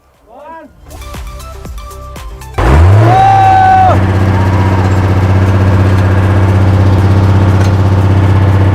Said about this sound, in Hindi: इसके अंदर एक 6 सिलेंडर इंजन है।